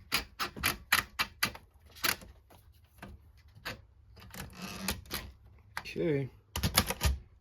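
Keys clack on a small portable Swissa or Florida typewriter, a quick irregular run of sharp strikes with a brief mechanical zip near the end; a single short word is spoken softly.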